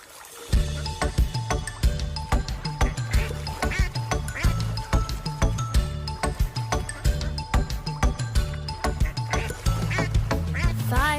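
Cartoon ducks quack repeatedly in the 5 Little Ducks nursery rhyme, bouncy short quacks punctuating a steady, rhythmic children's music backing throughout.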